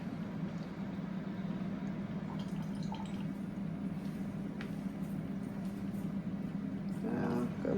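Coffee brews in a home kitchen while breakfast is being made. A steady low hum runs throughout, with faint, sparse drips and small liquid sounds on top, and a slight rise near the end.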